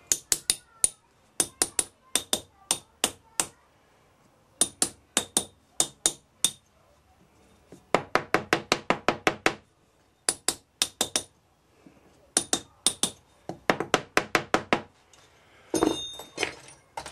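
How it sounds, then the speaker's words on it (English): A metal casting pattern is rapped with a hammer to loosen it from foundry sand. Sharp, ringing taps come in quick rhythmic bursts separated by short pauses, close and distinct. "give it a little bit tap about, it's called wrapping, loosens it off"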